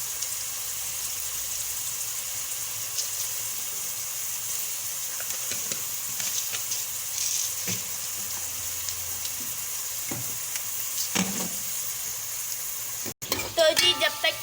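Whole garam masala spices frying in a pan for keema, a steady close sizzle running throughout with light scrapes and clinks scattered on top and a sharper knock near the end.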